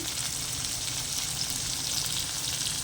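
Tomatoes and salt fry in hot oil for an eggplant dish, giving a dense, even sizzle that holds steady and close throughout with no pauses.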